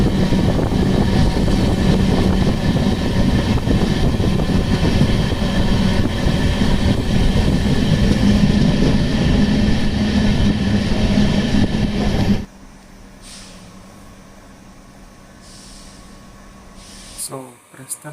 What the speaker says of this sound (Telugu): సో ప్రస్తుతం ట్రైన్ బెల్లంపల్లి స్టేషన్కి రీచ్ అయింది